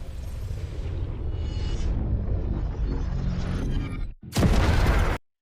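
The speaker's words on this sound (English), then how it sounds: "the very like explosion effect that we get from this like grain of sand" A rumbling, shattering explosion effect from a Mortal Kombat 12 teaser, building into a loud sustained roar, cutting briefly to silence, then bursting again in a bright crackling blast before stopping abruptly.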